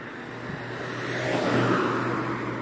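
Cars passing quickly on a road, a whooshing swell that builds and peaks midway, steady traffic hum underneath.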